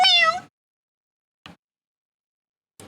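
A creature in the video game Voices of the Void gives one clear, close meow, followed by two much shorter, fainter chirps after silent gaps.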